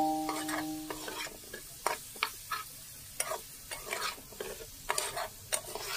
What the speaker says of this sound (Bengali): মশলা আলু সব কিছুই ভালোভাবে নেড়ে চেড়ে নিচ্ছি।